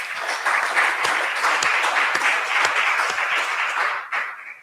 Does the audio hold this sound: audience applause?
yes